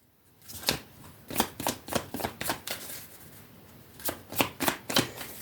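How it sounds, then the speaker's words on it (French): Tarot cards being shuffled before a nine-card spread, a series of crisp riffling bursts in quick succession, close and clear with no talking. "Alors, on va faire le tirage en 9 cartes"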